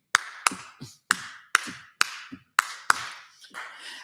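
Group hand claps at a benefit concert, played as a Bo Diddley beat rhythm section: sharp, crisp claps in a syncopated repeating pattern, about ten of them in four seconds, fairly close with no talking.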